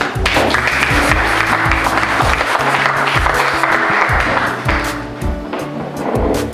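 A congregation applauds at a church service, a loud, dense wash of clapping that holds steady for several seconds, mixed with tonal music or voices underneath.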